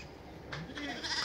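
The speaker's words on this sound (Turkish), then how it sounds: "Arkadaşlar kuzulu koyunları böyle dışarı çıkartıyoruz." Ewes and their lambs bleat faintly while being let out of the pen together, a few soft, overlapping calls against a low, steady background.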